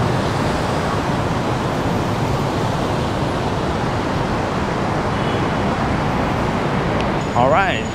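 Busy traffic at a major Bangkok roundabout and transport hub with many buses, a steady loud wash of engines and road roar throughout, with a brief higher tonal sound near the end.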